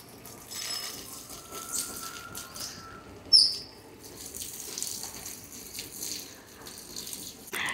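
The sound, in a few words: washing rice in water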